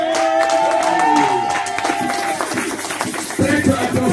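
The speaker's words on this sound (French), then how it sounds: "Nous applaudissons pour la parole de Dieu." Church congregation applauding the word of God, a dense patter of clapping mixed with voices and a sung or sustained tone early on, continuing steadily at moderate volume.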